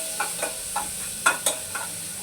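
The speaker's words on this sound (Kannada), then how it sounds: "ಈರುಳ್ಳಿ, ಏನೇನು ಟೊಮೊಟೊ ಹಣ್ಣು ಮತ್ತು ಬೆಳ್ಳುಳ್ಳಿ, ಜೀರಿಗೆ ಇಷ್ಟನ್ನ ಹಾಕ್ಕೊಂಡು ಫ್ರೈ ಮಾಡ್ಕೊಳ್ತೀನಿ" Onion, tomato, garlic and cumin fry in hot oil while being stirred, a soft sizzling bed broken by about six distinct scraping stirs at irregular intervals, close and with no voices.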